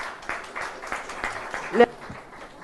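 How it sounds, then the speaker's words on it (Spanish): Symposium attendees give their speakers a round of applause, scattered individual claps that are distinct but modest in size, with a murmur of voices underneath and one sharper clap near the end. "Y les damos un aplauso a nuestros ponentes"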